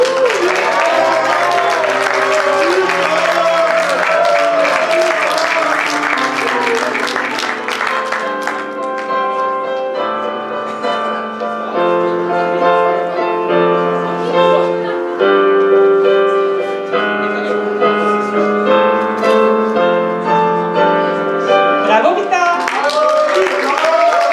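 Audience applause for a graduating student at a school gown and yearbook ceremony; clapping rises briefly at the start and end, while a loud, steady musical passage with sustained tones plays throughout.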